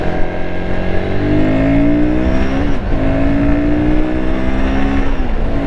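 A Royal Enfield Guerrilla 450, 2024 model, revs steadily up close, its engine note rising and falling in smooth harmonic sweeps with a brief dip midway and no voices over it.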